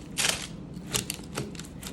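A kitchen knife slicing through regular dinner rolls down the middle, giving a few short crisp crackling cuts spaced apart in a quiet kitchen.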